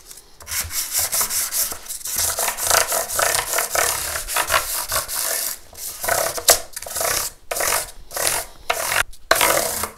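Guitar frets on an ES-335 build are sanded with 600-grit paper on a block, quick rhythmic back-and-forth rasping strokes, close and alone, with a few short pauses between passes.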